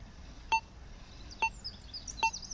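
A Signum 7272M metal detector sounds three short, thin beeps at even intervals over a silver chain, faint against a low background hiss.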